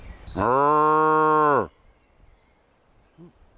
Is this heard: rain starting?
no